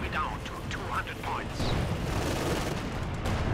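Gunfire rattles on in a Company of Heroes 2 battle as continuous distant shots and booms from a mid-war clash, with chirpy sound effects early and no clear standalone shots.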